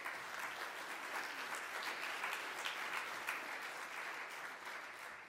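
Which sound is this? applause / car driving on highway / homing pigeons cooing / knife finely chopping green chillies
applause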